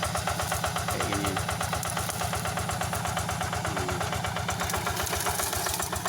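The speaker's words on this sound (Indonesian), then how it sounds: "Traktor merobohkan semak-semak belukar." A hand tractor's engine chugs steadily while the machine knocks down dense bushes and undergrowth, a loud, close, rapid mechanical thumping with brief higher squeaks or scrapes cutting in twice.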